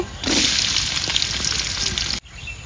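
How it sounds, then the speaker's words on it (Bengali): Chopped onion and garlic with whole spices sizzle loudly in hot oil in a pan, a close, steady frying hiss with crackles that cuts off abruptly, with no talk. "তেল দিয়ে দিলাম ফাতিলে গরম মশলা দিয়ে দিলাম আর দিয়ে দিলাম পেঁয়াজ কুচি রসুন কুচি"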